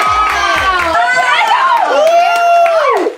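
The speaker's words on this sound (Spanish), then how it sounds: "Un fuerte aplauso porque va a entrar Lupita" A gala-final audience cheers and shouts with high, sweeping whoops and overlapping voices, loud and close, with some clapping beneath the crowd noise.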